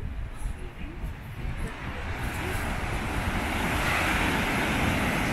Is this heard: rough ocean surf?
yes